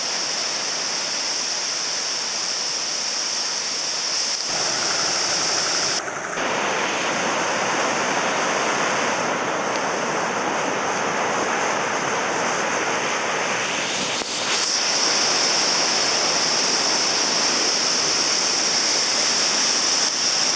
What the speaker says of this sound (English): Look, there's a waterfall right below me.